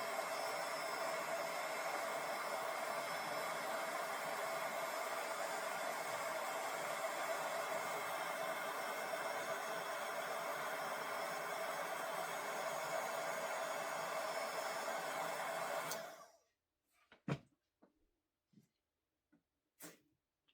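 Heat gun blowing hot air to soften glue on a basket, a steady loud whooshing hiss running for about sixteen seconds, then cutting off abruptly, followed by a few faint scattered clicks and handling sounds.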